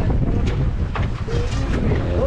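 Strong wind buffets a boat out at sea, a loud rushing roar with gusty rumble and faint creaks and tones throughout.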